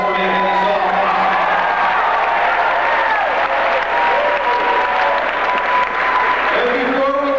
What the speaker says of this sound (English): please give yourselves a round of applause for making this all possible